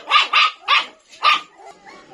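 Several sharp, close barks ring out from dogs at a stray-dog shelter waiting for feeding time, four in an uneven rhythm before tapering into softer yips.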